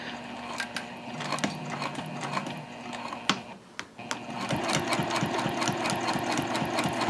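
A sewing machine stitches down a tote bag seam at a long stitch length. The rhythmic clatter is close and moderately loud, with a brief pause midway before it picks up with a quick, regular tick.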